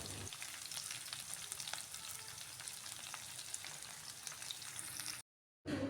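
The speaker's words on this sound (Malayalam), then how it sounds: "വെളുത്തുള്ളിയും നമ്മുടെ ഇഞ്ചിയും നമ്മുടെ ചുമന്നുള്ളിയും പച്ചമുളകും കറിവേപ്പിലയും കൂടെ ചേർത്ത് നല്ലപോലെ ഒന്ന് ഇളക്കുക" Garlic, ginger, shallots, green chillies and curry leaves sauté in hot oil with a steady close sizzle and faint stirring scrapes, the sound cutting out abruptly near the end.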